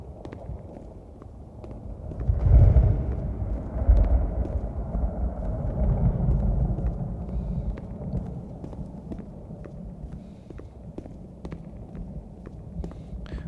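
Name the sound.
thunderstorm rumble from the video game The Beginner's Guide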